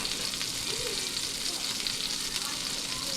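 Sausage sizzling and frying in a pan while cooking a country breakfast with smothered potatoes, a steady broadband hiss running continuously throughout at close range.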